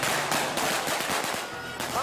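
Rapid crackling bursts of firecrackers popping in quick succession, loud and close, forming a dense, continuous rattle.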